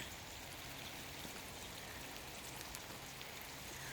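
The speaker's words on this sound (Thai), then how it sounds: "ฝนตก" Steady rain pattering down on a garden, a constant soft hiss of drops with no break, heard alone at a moderate distance.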